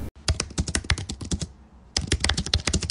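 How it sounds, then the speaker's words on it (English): Rapid keystrokes on a computer keyboard while coding, with a dense burst of taps, a brief pause, then another quick run of typing, close and clear. "this error will be recovered using Alt plus Enter on your keyboard"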